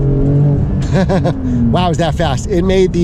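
A 2021 Porsche 992 Turbo accelerating at full throttle, its engine a steady, loud roar in the cabin beneath excited talking.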